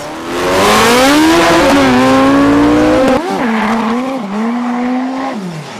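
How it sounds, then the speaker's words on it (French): A dragster blasts down the drag strip on a full run, its engine a loud, close, continuous roar with rising pitch sweeps as it accelerates and shifts, then a slightly lower sustained howl. "Et lorsqu'on est obéi par son dragster, voilà ce que ça donne. Un run bestial, démentiel, parfait"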